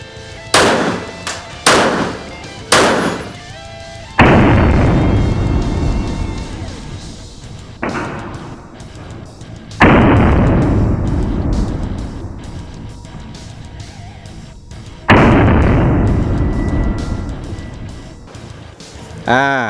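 Sharp gunshots from a KEL-TEC PMR30 .22 Magnum pistol fired at a 10-metre range: a quick burst of several cracks, then single loud reports spaced a few seconds apart, each trailing into a ringing echo.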